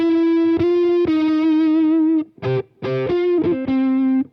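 Electric guitar through a Soldano SLO Plus amplifier gives a compressed, muffled distorted tone: long sustained notes, a brief stutter of choppy picked notes, then a held note to close.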